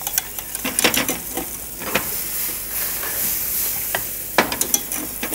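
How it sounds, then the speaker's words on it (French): A whisk scrapes and stirs beurre manié into a fish stock sauce with mussel cooking juices in a pan, giving repeated metallic taps and strokes over a steady simmering sizzle, close up and with no talking. "Je le mets dans mon bouillon et je vais fouetter."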